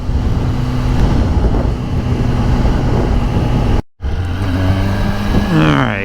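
A 2021 Kawasaki ZX-10 motorcycle drones steadily while being ridden on a street, its engine note continuous and close. After a brief cut, a quick shift brings rising and falling revs.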